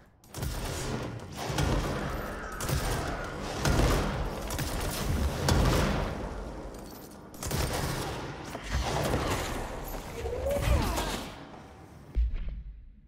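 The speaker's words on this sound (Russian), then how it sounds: "какие взрывы громкие!" Loud explosions and bursts of gunfire from the video game Control arrive in repeated heavy waves with booming impacts and crackling debris, running throughout with brief lulls between volleys.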